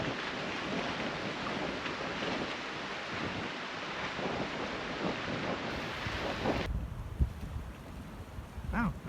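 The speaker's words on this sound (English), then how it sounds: "I told you it'd be windy here." Strong wind buffets the microphone on a seaside promenade, a constant rough roar with gusty swells and rumbling thumps, likely with waves somewhere underneath.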